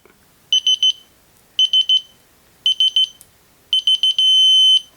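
Electronic beeping from a torque wrench while tightening scope ring screws to torque spec: crisp, high beeps in quick groups of four, repeating about once a second, ending in a steady continuous tone.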